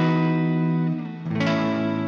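Electric guitar through the STL Tonality Howard Benson plugin's warm clean preset, sustained chords ringing with a brief dip, then a fresh strummed chord with a bright attack, alone.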